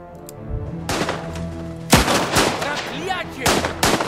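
Machine gun fire in the video game Last Train Home: several loud, sharp bursts of shots crack out over a steady low hum, with brief spoken voices mixed in.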